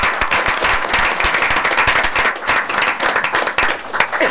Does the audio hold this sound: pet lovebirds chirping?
no